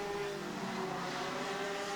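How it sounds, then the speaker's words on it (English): An IAME Parilla Sudam 125cc direct-drive kart engine runs at a steady, sustained buzzing pitch throughout, heard from a moderate distance with no talking. "That's what a kart engine should sound like."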